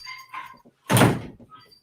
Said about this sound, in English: Let me close the door here a sec